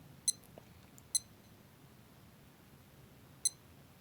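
A Casio DataBank DBC32 calculator wristwatch gives three short, high electronic button beeps, spaced irregularly over a few seconds, sharp and close against quiet room background.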